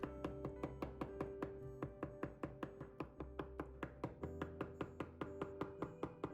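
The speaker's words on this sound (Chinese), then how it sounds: "最后再剁成肉末。" A cleaver chops chicken breast into mince on a board, rapid steady thumps repeating about three to four times a second, close but fairly soft, with no talking.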